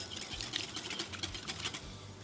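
Egg yolks with vanilla being whisked by hand in a bowl, a rapid, steady scraping and clicking rhythm that carries on close and fairly quiet throughout, with no voices.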